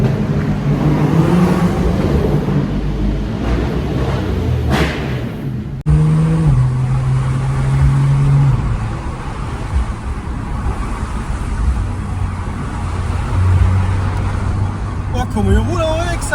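Sports cars on a mountain road in the Vercors, including a BMW M135i, engines revving and passing by at speed with a rising and falling roar, while people talk nearby over the engine noise.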